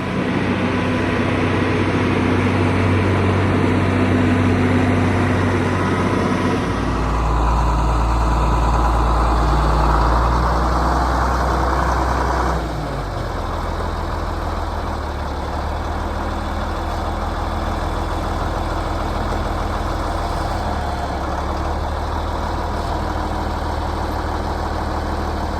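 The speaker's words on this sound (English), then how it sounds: "just gonna get the tractor fired up and pull out of the shop" A tractor's heavy diesel engine idles steadily with a deep low rumble, shifting in tone partway through as the revs change; no voices.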